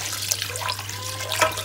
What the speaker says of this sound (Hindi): मैंने 600 ml पहले डाला था और 700 ml मैं और पानी इसमें डाल रही हूँ।